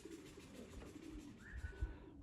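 Young pigeons in a pigeon loft coo softly and continuously nearby, low and muffled, with a couple of faint thumps near the end.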